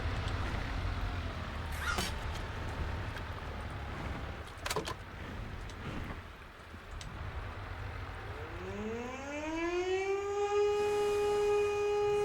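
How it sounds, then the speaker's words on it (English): In the video game Age of Water, after a stretch of low rumble and a few knocks, a ship's siren winds up loudly, rising in pitch and then holding a steady wailing tone. "So that's a siren."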